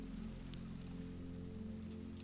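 Steady rain falls as a faint, even hiss over a low constant hum, with a few sharper drip ticks scattered through. It is quiet and continuous, with no voices.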